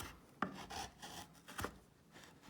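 A sharp Harbor Freight chisel slices through wood in two crisp, quick strokes, each a short rasping shave close by, with quieter scraping between them.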